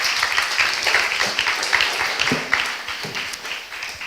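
Steady, dense audience applause at a pediatric innovation day in Riga, a continuous wash of many hands clapping for the six competing teams, moderately loud throughout.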